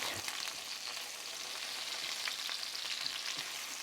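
Spices fry in a pan until fragrant, a soft, even crackling sizzle with faint stirring, heard alone without talk.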